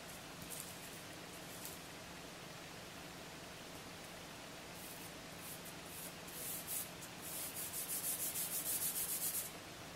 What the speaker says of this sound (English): You can hear the sound when I scratch it on paper.